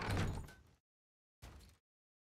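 Video game door sliding shut, two heavy whooshing thuds separated by a short silence, close and clear with nothing else around them.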